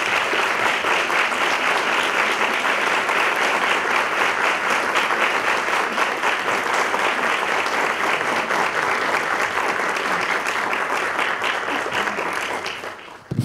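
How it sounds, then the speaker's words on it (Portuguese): An auditorium audience at a university talk event in Brazil applauds two professor guests, a loud, unbroken wall of clapping that holds steady for about thirteen seconds before cutting off abruptly. "dar uma salva de palmas para eles"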